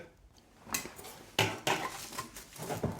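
A pickle jar lid, packed with turnip, beet and cucumber pickles, is set on and screwed shut with a few sharp clinks and scraping clatters of glass and metal, close and alone.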